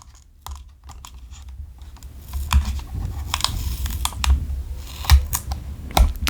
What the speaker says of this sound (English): Let's go ahead and remove this tape.